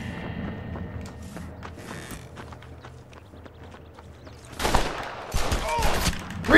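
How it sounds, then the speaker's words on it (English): Mechanical clicks and creaks of a gun being reloaded in the video game Red Dead Redemption during a shootout match, followed by loud gunshots near the end, with little talk. "Reloading!"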